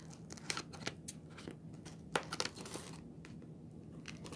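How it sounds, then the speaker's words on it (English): Scissors snip through the binding of a coloring book in a string of crisp, close cuts with papery crinkling between them, quiet and without talk. "So if I can get my scissors in there,"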